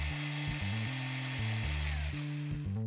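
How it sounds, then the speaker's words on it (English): A drill whining loudly, alone, its pitch stepping up and down in short bursts over about three seconds. "First you drill,"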